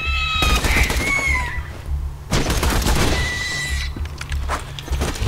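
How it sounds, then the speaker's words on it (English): Rapid gunfire and an exploding thrown gun in the video game Borderlands 2, with loud bursts of shots, a whining tone, and a sharp blast partway through, separated by brief lulls. "Shooting my gun, every time I reload, it actually throws my gun and explodes."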